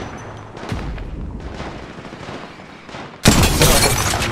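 Gunfire in Apex Legends Mobile, scattered distant shots and thuds first, then a sudden loud close automatic burst that carries on to the end.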